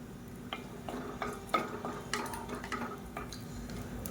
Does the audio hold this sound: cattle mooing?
no